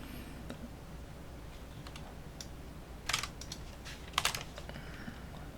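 Sparse keystrokes on a computer keyboard, quiet and close, with two brief bursts of rapid typing standing out above a steady low room hum.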